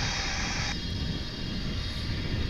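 A distant jet engine whines at DFW International Airport near a UPS MD-11 freighter, a steady high tonal drone over broad rumbling ground noise that briefly thins and continues through the short stretch.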